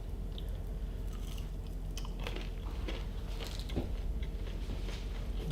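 Homemade cereal bars studded with crunchy quinoa seeds being chewed up close, a steady run of soft crunching and munching bites with no talking.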